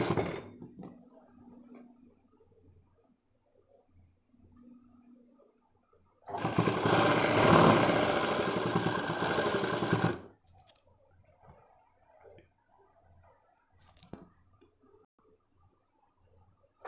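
A sewing machine stitching a bra runs in one loud continuous burst of about four seconds, with quieter handling noises and a few short clicks before and after.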